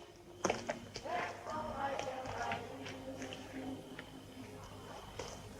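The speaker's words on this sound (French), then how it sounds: "Voilà son cheval." A horse in a classic Western film clops along on soft ground, irregular hoofbeats with squishy thuds at moderate distance, blended with faint voices and background noise.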